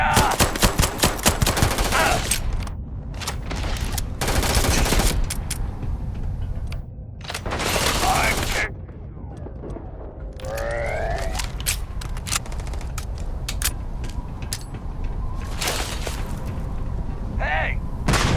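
Gunfire in the video game Starfield: repeated bursts of loud rapid shots and blasts, some sustained and some single, with game effects between them and voices over the action.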